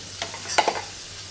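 Green chillies frying in a small amount of oil, with a couple of quick spatula stirs scraping the pan over a faint sizzle in a short burst.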